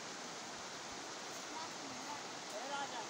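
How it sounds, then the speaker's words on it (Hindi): Fast-flowing river water rushing steadily and close by on a pilgrimage trek, a dense broadband roar that holds level throughout with no pauses, alone without talk. "पानी बहुत तेज है"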